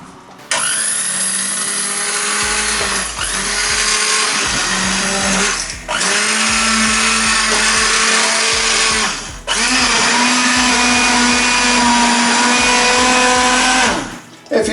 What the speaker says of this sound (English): now I'm going to blend it with a stick blender